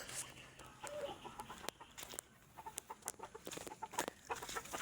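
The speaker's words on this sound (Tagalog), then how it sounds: "pakita ko muna sa inyo ang aking mga alagang manok." Chickens cluck and chatter softly at a distance, with short scattered calls over a faint outdoor background.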